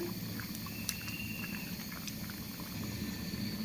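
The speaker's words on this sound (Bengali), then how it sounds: "ডাল ভুনা প্রায় হয়ে গেছে, দেখেন ফুটে গেছে।" Dal bhuna boiling in a pot, a steady close bubbling and popping of thick simmering lentils, quiet and continuous with small sharp blips.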